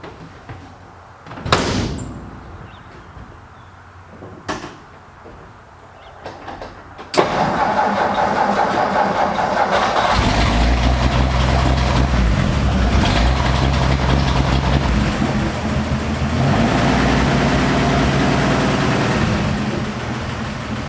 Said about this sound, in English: Now the truck's going to move under its own power for the first time in a year.